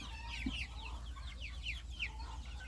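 Chickens and young roosters clucking in a farmyard, with overlapping chirps and clucks throughout, fairly close and steady, over a low rumbling background.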